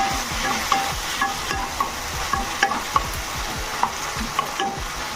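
A spoon stirring chilli cauliflower (chilli kobi) with soy sauce in a pan, with a steady scraping and clinking rhythm over a soft continuous sizzle, close and fairly quiet.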